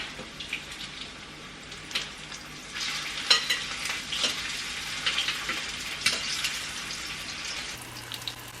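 Rolled turkey or chicken tacos fry in a skillet with a steady hiss and crackle throughout, punctuated by sharper pops and clatters as they are turned, with no talking.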